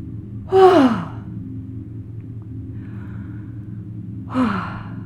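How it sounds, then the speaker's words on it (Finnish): Two deep breaths during a guided deep-relaxation exercise, each a loud, close airy rush like a sigh, the first near the start and the second toward the end, over a low steady rumble in between. "Ota vielä syvä sisähengitys nenän kautta"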